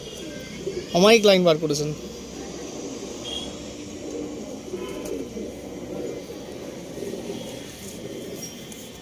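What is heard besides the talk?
pigeons cooing in a loft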